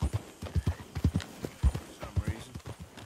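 Horse hooves clip-clop at a steady walking rhythm, close and distinct, in the Western game Red Dead Redemption 2, with some voices underneath.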